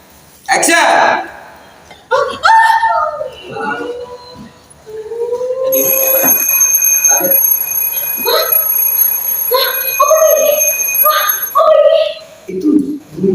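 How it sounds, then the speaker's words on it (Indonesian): A high, steady electronic alarm tone rings through the middle of the clip on a drama film set behind the scenes, underneath loud overlapping talk and laughter from several people nearby. "Itu bunyi jam mana?"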